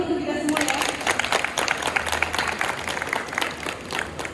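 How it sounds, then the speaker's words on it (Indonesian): A group at a disaster-mitigation tabletop exercise claps together, a dense patter of hand claps starting after a brief pause and continuing steadily with crowd murmur mixed in. "Tepuk tangan dulu untuk kita semua ya"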